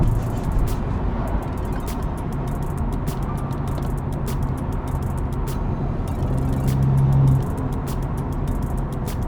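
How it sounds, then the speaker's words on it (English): Cabin drone of a BMW G20 330e cruising at 100 km/h in top gear with its exhaust valves closed, a steady, muted low rumble mixed with road and wind noise, with faint voices. "This is how the car sounds with the valves closed at 100 kilometers an hour."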